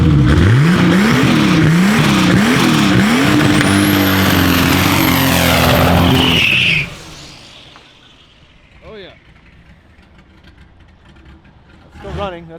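A turbocharged BMW M20 stroker engine revs hard and loud, rising and falling in pitch with a high turbo whine, then cuts abruptly to near silence with faint later noises and talk.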